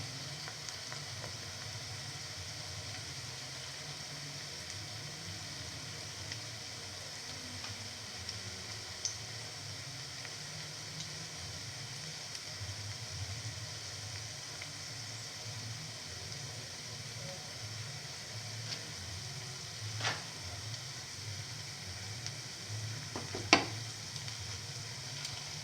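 Cottage cheese and fenugreek leaf fritters frying in oil, a quiet continuous sizzle with soft stirring and a few sharp ticks from the utensil, no voices.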